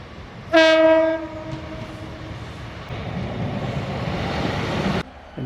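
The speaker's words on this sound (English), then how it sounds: "And here comes the Oban train." The Oban train arrives at Tyndrum station, opening with a loud, sustained horn blast, followed by a steady rumble and clatter of wheels on rails as it rolls in nearby.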